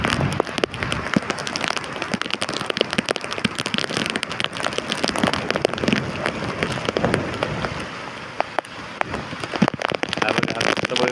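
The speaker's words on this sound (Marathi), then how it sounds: "पाऊस एकदम बेफाम चालू आहे." Heavy first monsoon rain pounds Kalvi Bandar beach at Vengurla on the Konkan coast, a dense, continuous hiss of downpour with scattered sharper drop impacts and no voices.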